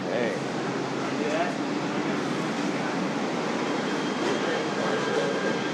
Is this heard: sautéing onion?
no